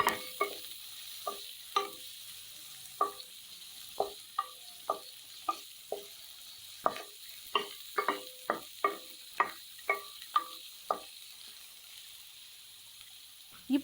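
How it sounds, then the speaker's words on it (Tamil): Onions, green chillies and curry leaves sauté in oil until golden for a green fish gravy, with a soft steady sizzle beneath a run of crisp, regular spatula taps and scrapes against the pan. "இப்போ இதை நல்லா லேசாக பொன்னிறமாக வர்ற வரைக்கும் நல்லா வதக்கி எடுத்துக்கலாம்."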